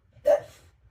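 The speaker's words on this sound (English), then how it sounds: "The dog is just barking at the wind" A single short, sharp dog bark, close by, rising out of a quiet background and fading quickly.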